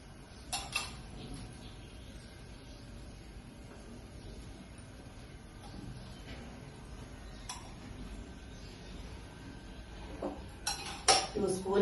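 A metal kadai pan set on a home stove to heat cooking oil, with light clinks and a few sharp metallic knocks near the start and end over steady background hiss.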